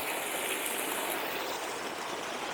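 Water gushes hard from a pump discharge hose draining a flooded pond, rushing like a fast stream in a continuous, close, full wash with no break.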